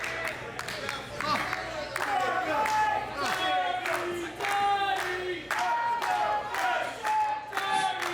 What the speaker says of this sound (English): And this crowd showing support for both Dickinson and Jackson here today.